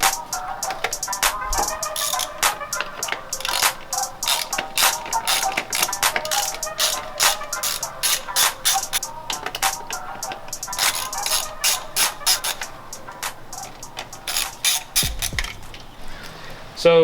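Bolts come off the PCV breather system on the valve cover of an Audi B7 A4. Dense, rapid metallic ticking and clinking runs nonstop from start to end, close by and fairly loud.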